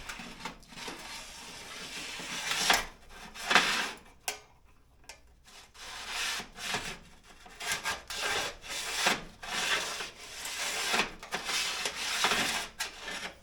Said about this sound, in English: I've got a 1, 2, 3 block and my scriber on top. I'm just going to follow it around.